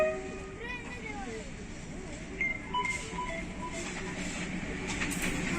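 The Hazara Express rolls along a railway track at a station ringed by snow peaks, a continuous rumble with faint rail clatter and squeals, while people talk quietly nearby.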